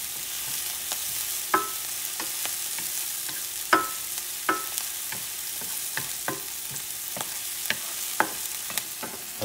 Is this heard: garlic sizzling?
yes